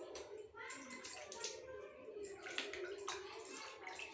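Warm water is poured over a small child during a traditional bath, splashing and trickling in short bursts close by, while an adult talks softly throughout.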